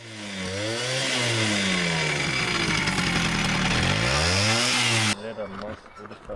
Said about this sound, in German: Mach mal an, ich will mal den Auspuff hören.